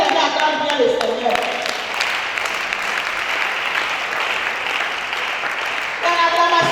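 A congregation at a couples' seminary applauds and acclaims the Lord, with a burst of steady clapping mixed with cheering voices and a bright whistle-like tone near the start, fairly loud throughout.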